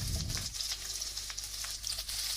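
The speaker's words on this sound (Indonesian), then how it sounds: "Setelah minyak panas, masukkan irisan bawang bombay." Sliced onion sizzles in hot oil in a wok, a steady close frying hiss with faint crackles and a low background hum, no talking.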